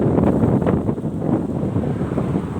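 Powerful outdoor wind buffets the microphone in a dense, constant roar that fills the whole stretch, with no voices over it.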